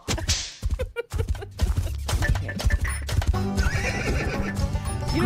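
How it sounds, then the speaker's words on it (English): A horse whinnies loudly, then hooves clip-clop in a quick steady rhythm, with sharp whip-like cracks among them in a staged ride sound effect, near and busy throughout. "We have to ride in on our horse."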